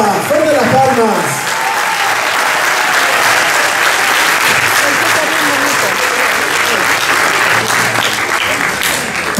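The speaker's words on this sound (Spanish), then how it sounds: "¡Fuerte las palmas!" Loud, sustained applause from the audience at a piano recital, dense clapping filling the room for several seconds, with a voice talking over the start.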